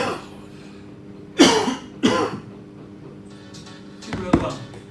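A person coughs a few times in sharp bursts, close and fairly loud, with a faint voice and low room hum around them.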